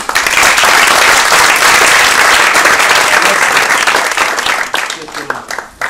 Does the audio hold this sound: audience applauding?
yes